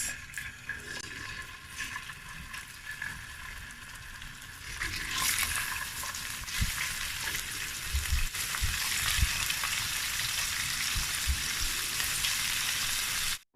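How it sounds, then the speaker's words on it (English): Steady crackling sizzle of prawns frying in hot olive oil, starting softer then growing louder and busier, with a few soft clinks near the pot. "Then I'm going to be frying the prawns."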